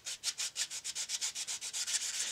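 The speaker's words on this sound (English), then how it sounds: "The process begins with quite rough sandpaper. Water is there to make things go easier." Rough wet sandpaper scrubs a 3D printed part in quick, even back-and-forth strokes, about six per second, soft and close with no talk.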